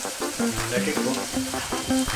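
Palak matar curry with spinach, peas and garam masala frying in hot oil in a pan, a close, continuous crackling sizzle with faint stirring, no talk.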